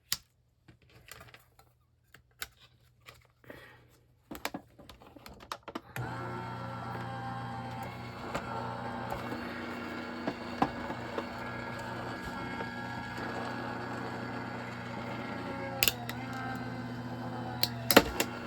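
An electronic die-cutting machine cuts paper for a handmade shaker card, starting with scattered clicks and taps, then a steady mechanical whir with intermittent ticks and clatter that runs on with no talking.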